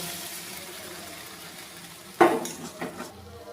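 Flour paste going into an ash gourd curry made with hilsa fish heads as it cooks in a pan: a soft background sizzle broken by a sudden clatter as the paste drops in, followed by a few lighter stirring knocks.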